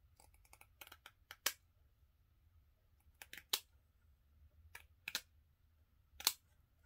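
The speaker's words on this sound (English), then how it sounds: "You want to use your paper scissors because buckram is really hard on scissors." Sharp snipping cuts of paper scissors through stiff buckram in small bursts, a few clustered clicks then pauses, close and crisp against a quiet background.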